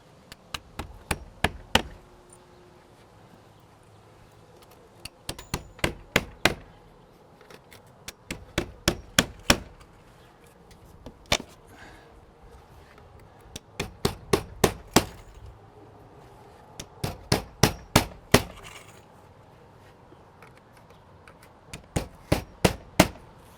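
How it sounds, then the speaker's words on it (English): A hammer drives nails into window casing trim with bursts of four to six sharp, close strikes separated by short pauses, repeated over and over in a quiet room. "So now we're all set to nail this in."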